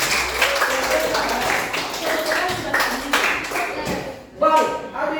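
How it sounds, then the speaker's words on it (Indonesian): A classroom of students clapping their hands during a reading-aloud session, a busy, uneven patter that stops abruptly near the end, with voices murmuring underneath. "Tepuk tangan."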